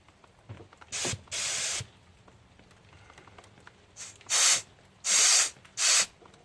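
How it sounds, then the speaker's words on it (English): An air compressor hose blows short bursts of hissing air, five separate blasts of one to two seconds each with quiet gaps between, close and sharp. "There's not very much air in this compressor right now."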